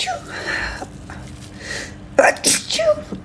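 A woman sneezes once, loud and close, after a short sniffing intake of breath, in a quiet indoor room.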